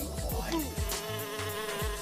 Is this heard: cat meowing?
no